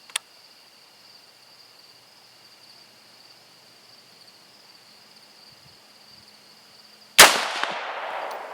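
An old cartridge fires from a Dominion Arms AR-15 rifle: one sharp, loud, close report near the end that decays quickly, after a long quiet stretch with a steady faint insect-like whine and an early click.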